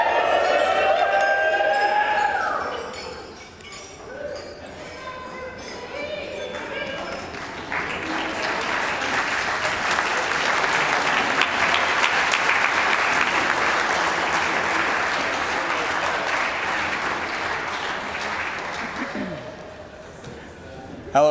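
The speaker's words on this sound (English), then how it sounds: "Let's raise our glass and cheer for the new Mr. and Mrs." Wedding guests at a ceremony and speeches burst into loud, sustained cheering and applause after a toast to the newlyweds, with whoops and voices mixed into the dense clapping that swells and holds for most of the stretch.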